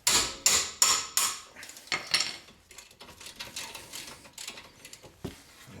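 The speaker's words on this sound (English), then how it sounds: "Hammer time." A hammer strikes metal on a car's brake parts in a quick series of sharp, ringing clanks, loud at first, then lighter tapping and scraping follow.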